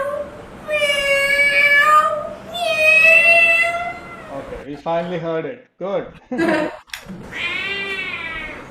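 A voice imitates a cat, giving several drawn-out, wavering meows, with brief speech breaking in between the calls.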